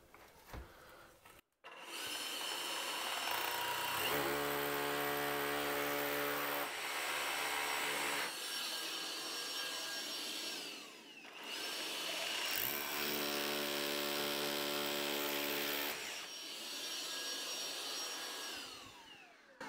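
A drill fitted with a Hoover vacuum attachment bores into a wall, the vacuum roaring continuously while the drill whine rises and falls through several bouts of drilling, with no talking.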